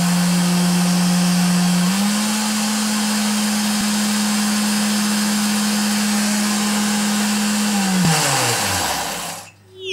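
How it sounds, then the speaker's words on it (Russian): Electric cream whipper churning fat with milk at low speed: a steady, loud motor hum holds one pitch throughout, then winds down near the end with a brief clatter as it stops. "я увеличиваю скорость кремовзбивалки"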